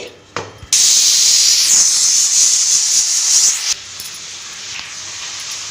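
A pressure cooker on the stove for pappucharu lets out a loud, sustained hiss of steam for about three seconds, then drops to a quieter lingering hiss; short clicks come before it and no one talks.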